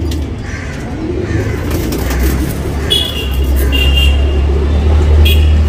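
A male breeding pigeon coos softly in short repeated calls, set against a loud steady low rumble of nearby road traffic.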